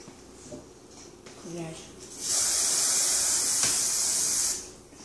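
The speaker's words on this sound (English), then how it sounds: "Then I come back around and spray the sides of the hair and underneath." Hairspray hisses from an aerosol can in one sustained burst of about two seconds, misted onto the sides and underneath of styled hair, close and loud after a few quiet handling sounds.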